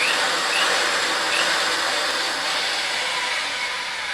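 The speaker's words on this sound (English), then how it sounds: "I'm going to throw the machine in forward" A Ridgid 141/161 pipe threader driven by the driveshaft method runs forward with a steady, loud, broadband mechanical whir and hum that holds constant throughout, with no talking.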